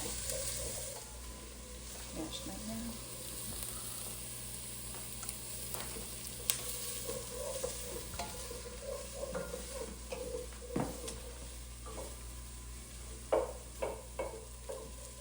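Onion frying in a pot for a chicken veggie stew, a soft, constant sizzle broken by scattered scrapes and knocks of a spoon stirring, some louder clacks toward the end.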